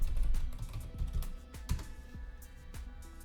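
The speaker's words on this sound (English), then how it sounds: "we can just type in PowerShell and hit enter" Fingers typing a command into a computer keyboard at a command prompt, a brisk run of close clicking keystrokes with a few heavier thumps and a faint background hum, no talking.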